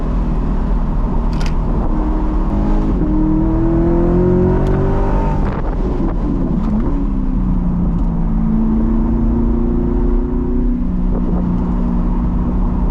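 A Corvette on a race track pulls hard under acceleration, its engine note climbing and falling through several rising sweeps over a steady loud rumble, close and continuous with no talk.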